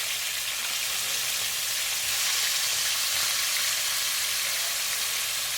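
Pieces of General Tso chicken fry in hot oil in a pan, giving a steady, dense sizzle close to the microphone that holds evenly throughout, with no voices.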